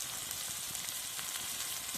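Tomatoes and onions sizzling and frying steadily in a pan during village-style cooking, a dense continuous crackle up close with no talking.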